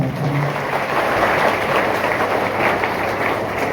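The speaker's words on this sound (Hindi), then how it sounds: "बजाओ ताली बच्चों को" A dense, steady burst of clapping fills the hall as an audience applauds children at a yoga gathering in Seoni, many hands together at close range without a break.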